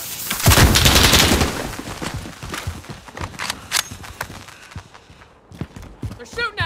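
Bursts of gunfire in Call of Duty: Modern Warfare, a loud volley at the start followed by scattered sharp shots and footsteps through the rest, with a short whistling sweep near the end.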